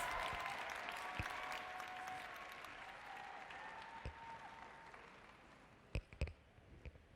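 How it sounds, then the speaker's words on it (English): An audience applauds steadily at a Nu Skin Live 2019 event, a dense wash of clapping that thins slightly toward the end, with a few sharper individual claps standing out. "give the biggest round of applause to all our leaders on the ground. The loudest applause."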